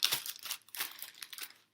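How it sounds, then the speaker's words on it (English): A plastic bag is handled up close, giving continuous soft crinkling and rustling with small crackles throughout. "Next, we're going to get our plastic bag"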